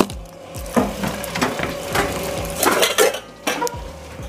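A saucepan is handled and set into a homemade insulated box cooker, a haysack-style Norwegian cooker, making close knocks, scrapes and light metallic clatter at an uneven rhythm.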